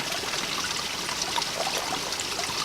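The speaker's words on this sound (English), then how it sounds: "Bubbles are coming up, loads of bubbles, dissolving very quick." A tablet fizzes and dissolves in a container of water outdoors on a moor, a steady soft hiss of tiny bubbles rising and popping, close and fairly quiet with no voices.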